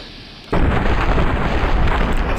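A loud explosion blows up enemies in the Fallout 3 video game, bursting in suddenly after a quiet half second and roaring on as a sustained, rumbling blast.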